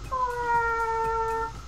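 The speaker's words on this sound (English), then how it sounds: "And all I heard was, meow" A cat in a hallway gives one long, drawn-out meow, close and clear, lasting over a second against a quiet room.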